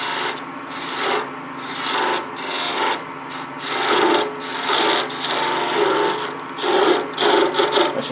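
A skew chisel cuts wood on a spinning lathe, giving a loud rasping, scraping drone that swells and fades in repeated passes over about eight seconds. It is close up, with no voices.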